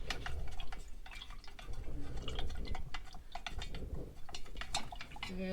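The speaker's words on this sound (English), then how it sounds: "just use a chopstick and stir all that up." A chopstick stirs a beeswax lip balm mixture in a small container, producing soft, irregular clicks and scraping taps close up, repeated quickly and quietly with no talking.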